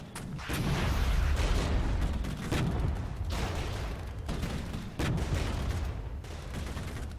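Artillery firing in the video game 00 Regiments: heavy, rumbling booms roll into one another in a dense barrage, with a few sharper cracks and brief dips between salvos, and no voices.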